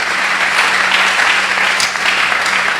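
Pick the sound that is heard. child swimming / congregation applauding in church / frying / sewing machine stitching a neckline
congregation applauding in church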